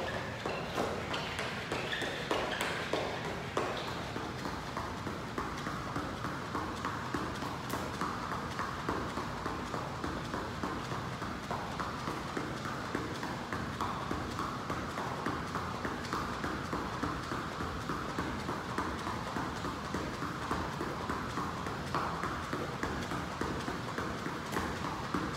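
Quick, steady thumping footfalls from running in place during a home workout, a light rhythmic patter under a noisy, hissy room background, moderately faint and continuous.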